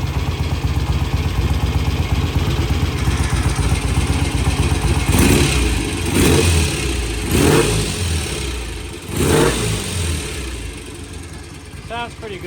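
A vintage British motorcycle engine idling after restoration work, a steady low throbbing chug close by, with a few short throttle blips rising above it partway through.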